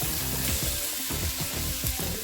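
Rice with tomato stirred and fried in a pan, a steady close sizzle with spoon scrapes and stirring clatter throughout, no voices.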